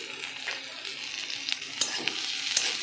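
Onions and green chilies fry in hot oil, giving a steady close crackling sizzle with scattered sharper pops and light stirring scrapes, no one speaking.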